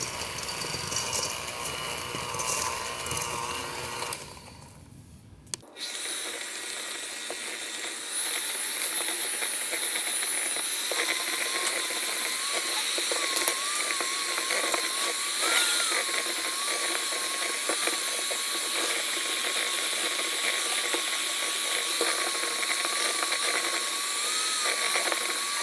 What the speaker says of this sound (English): now we're gonna cream it for about 2 minutes until it's light and fluffy. Yeah, start low and then move it higher up.